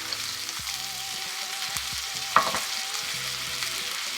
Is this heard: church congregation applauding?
no